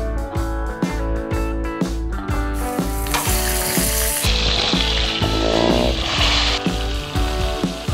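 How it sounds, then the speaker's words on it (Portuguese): Monkfish with bacon browns in a hot pan with a loud, steady sizzle and crackle, while rhythmic music plays prominently over it. "Eu vou deixar ele dar uma douradinha e depois eu vou levar ele no forno."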